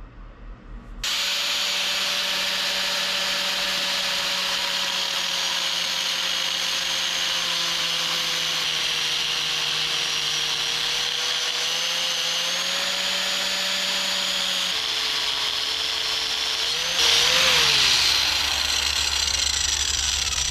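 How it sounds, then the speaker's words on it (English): A cutoff wheel grinding lines into a steel axe head gives a continuous high-pitched whine and hiss that holds steady for about twenty seconds and swells louder near the end as the wheel bites. "we're going to take this cutoff wheel. We're going to cut a whole bunch of lines up here"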